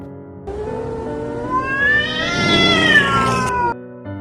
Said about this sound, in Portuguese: Era de um gato e um cachorro brigando.